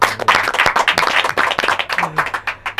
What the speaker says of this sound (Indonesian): Kita kasih tepuk tangan buat Charles Ebu dulu dong